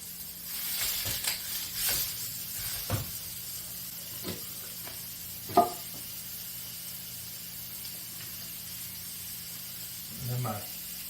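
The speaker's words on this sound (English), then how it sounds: "And we're just going to put our sausage in here. Get it browned up." Sausage browns in a hot pan for a tater tot breakfast casserole, giving a steady broad sizzling hiss throughout, with a few brief louder crackles and scrapes along the way.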